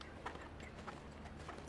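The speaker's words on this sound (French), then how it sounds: "Un bon galop, l'allongement au galop" Hoofbeats of a horse galloping during an eventing competition at Burghley, a faint, rhythmic clip-clop of repeated strikes heard at a distance against low background noise.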